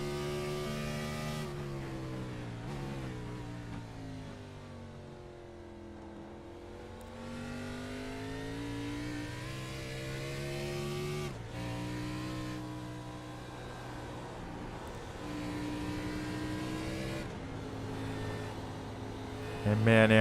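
A race car's engine on an onboard lap of Watkins Glen in a sim racing game, the car numbered 710 in a sportsman series; the engine note revs steadily up and down through the gears, with voices talking over it.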